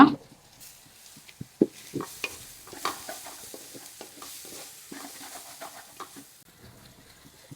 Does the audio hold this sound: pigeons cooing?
no